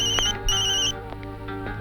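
A telephone ringtone rings loud and close in a Hindi action-drama film scene, repeating electronic tone bursts with brief gaps over a steady musical bed, with no talking.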